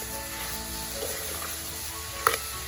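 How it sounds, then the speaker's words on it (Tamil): Water apple pickle cooking in a pan, a soft low sizzle with faint stirring scrapes and one brief sharper clink near the end, quiet and without talk. "இப்போ நல்ல 2 கிண்டு விடலாம்."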